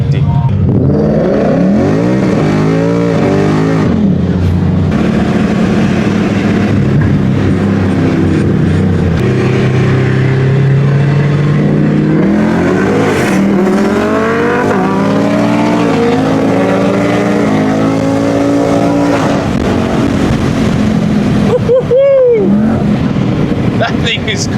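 Race cars at a Queensland Raceway roll racing event roar past, engines sweeping up and down in pitch through repeated loud passes, with a sharp doppler whine near the end and excited voices mixed in.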